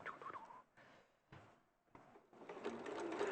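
Sewing machine stitching in a studio, a soft mechanical whirr that starts and stops in short runs, fairly faint and close, with quiet background noise around it.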